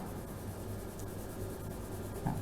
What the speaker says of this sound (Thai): ถ้าเป็นแนวนอนแล้วก็ ระบายในแนวนอนทับอีกรอบหนึ่งก็ได้ครับ